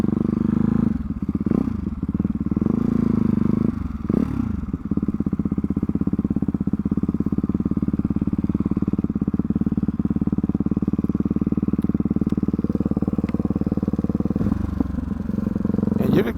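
A Ducati motorcycle rumbles continuously at close range, its engine idling and rolling along at low speed on an empty practice lot, with a steady loud drone throughout.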